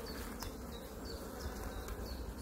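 A steady, close drone of honeybees hums around a hive frame, thick and continuous, with faint ticks of movement and no talking.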